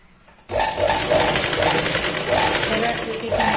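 Sewing machine stitching pleats on a Punjabi top, starting abruptly and running in a fast, steady mechanical rattle with a regular pulsing rhythm, close and loud.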